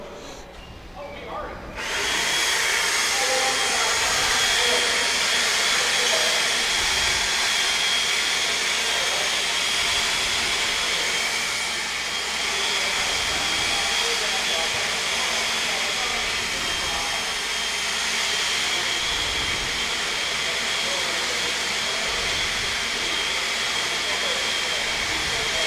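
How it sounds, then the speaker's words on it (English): Several air blowers run together in a loud, continuous, broadband roar that starts abruptly after a brief quieter moment and then holds steady, close and dominant. "Grab those other 2 blowers."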